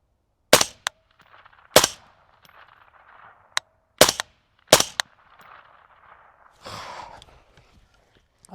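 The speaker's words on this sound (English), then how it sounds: "Send a couple more downrange, see if we can get a double tap." Rifle shots from a Navy SEAL Recce rifle build fired downrange on a range, several sharp cracks at irregular intervals with some paired close together, ringing into a faint reverberant tail between shots.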